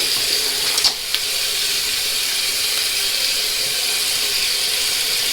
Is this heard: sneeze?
no